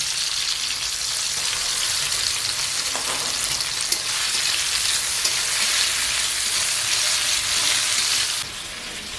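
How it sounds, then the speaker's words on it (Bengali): Shrimp frying in a pan of oil for spinach ghonto in a village kitchen, a steady loud crackling sizzle with faint stirring scrapes, continuous throughout and easing slightly at the end. "এই যে চিংড়ি মাছ কেটেছি, চিংড়ি মাছ দেবো।"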